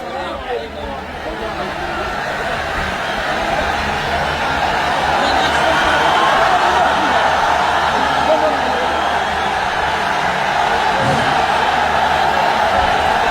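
A huge crowd at an Islamic religious gathering (mahfil) in Chapainawabganj, Bangladesh, chants Allahu Akbar in answer to a takbir call, a loud, sustained roar of many voices that swells and holds steady.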